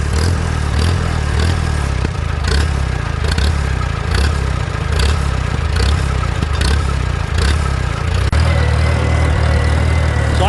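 A small engine fitted with a Chinese carburetor surges under its governor, the running note rising and falling in steady repeated pulses with mechanical clatter, loud and close, with no talk.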